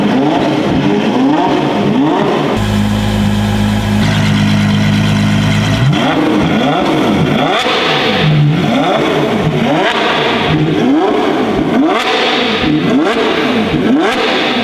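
A loud Ferrari 812 Superfast with a Novitec exhaust and open valve, revving up and down repeatedly in rising and falling sweeps, with a brief steadier idle partway through.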